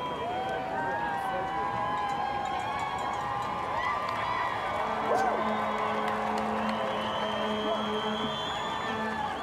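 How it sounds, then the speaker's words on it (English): A hometown crowd cheers at a canoe sprint world championship race in Halifax, Canada, a steady roar of voices and whoops spread wide and constant, with a commentator talking over it. "The hometown crowd just wildly cheering them on here."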